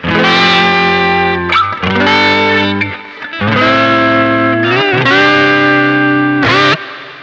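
Guitar run through a Bleak Disctic Electric Rec Head lo-fi pedal set to medium sensitivity, loud gritty chords whose pitch warps and bends downward with each hard strum, in several sustained bursts separated by short gaps.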